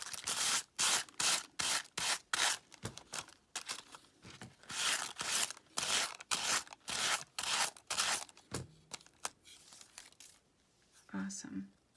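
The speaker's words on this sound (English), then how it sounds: "I'm sanding away from the ornament, not towards the center of the ornament" Rhythmic scratchy rubbing of sandpaper against the hard edge of a resin ornament, repeated in quick strokes close to the mic, with a short pause and some handling noise near the end.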